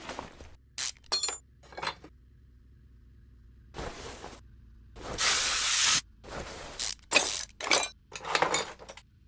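Aerosol can of WD-40 sprayed in a car-repair simulation game: short separated hisses and clinks, then one sustained loud spray burst, followed by several quick sprays and clicks against near silence.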